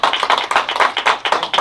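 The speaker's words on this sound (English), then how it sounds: "So can we give them a round of applause?" Audience at a school board meeting applauds a graduating class, a dense, steady burst of many hands clapping close and loud throughout.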